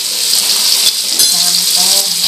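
Ground spice paste sizzles loudly in a hot pan while cooking fried rice vermicelli, a dense close crackling fry with a few stirring scrapes and no talking.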